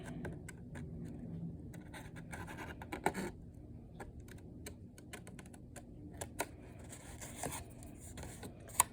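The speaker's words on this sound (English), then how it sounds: "And then I'm going to cut the rest of this strip away." A paper strip is cut away while making a flip-notepad pocket: quiet, close scratchy snips and rustles in an irregular rhythm, with a few sharper clicks.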